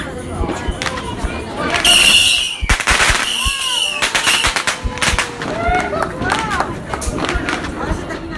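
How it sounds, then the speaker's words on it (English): Fireworks go off at midnight on Christmas across a neighbourhood, loud cracks and sharp bangs with whistling rises, bursts coming in irregular clusters near and far, with voices chattering underneath. "finally it hit midnight, and then we lit off fireworks"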